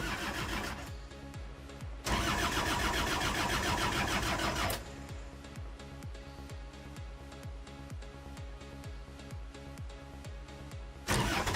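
A tractor engine cranks repeatedly under a BlitzWolf BW-JS1 portable jump starter, a rapid rhythmic chugging of the starter motor with louder bursts in between, heard close and without talk.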